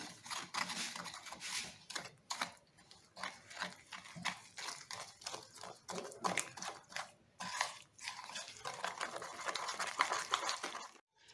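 A lemon pudding mixture with lemon juice is mixed in a bowl, giving irregular bursts of scraping and clattering that come and go over several seconds, fairly quiet and with no talk.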